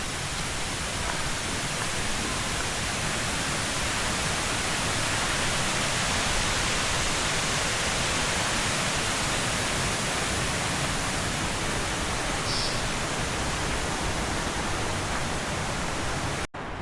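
Tier 7 of Huai Mae Khamin waterfall makes a steady, dense rushing roar of falling water that continues unchanged for the whole stretch, with no voices.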